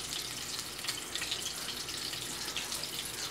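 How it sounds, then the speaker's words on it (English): Tap water runs steadily into a sink while hands are washed with soap, a close, even hiss of flowing water with faint splashes throughout. "Now what I do, wash my hands, soap and water"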